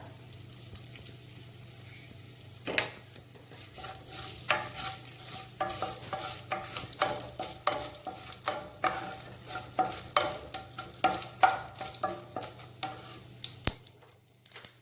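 Whole red chilies and asafoetida sizzle and crackle in hot oil in a pan for South Indian sambhar, a quiet continuous frying hiss with scattered small pops and occasional stirring clicks, close and alone.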